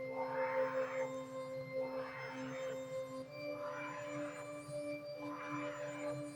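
Ambient synth pad preset from Serum's Fragile bank with reverb, sustained tones swelling in four slow, even pulses, steady and alone in the background of a hard trap beat.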